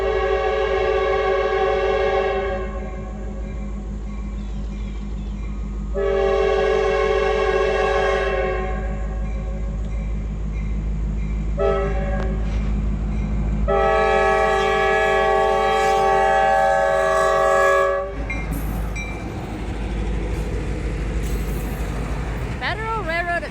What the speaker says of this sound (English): It's an engine out of Northumberland with a horrible horn.